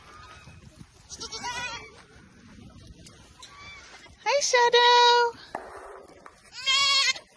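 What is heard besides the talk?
goats bleating on a farm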